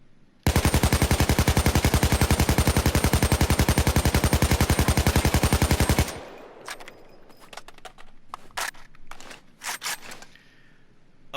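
AK-74 assault rifle in the game Payday 2 firing a long, rapid full-auto burst, loud and evenly paced for several seconds, then stopping abruptly and followed by scattered clicks and mechanical handling noises.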